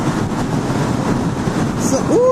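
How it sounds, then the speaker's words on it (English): Steady wind buffets the microphone in a constant low roar during a ride on an Ebroh Bravo GLS naked motorcycle, with a voice faintly present beneath the rushing noise. "So, it's a little bit windy."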